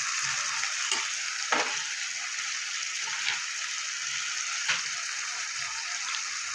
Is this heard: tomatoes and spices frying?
yes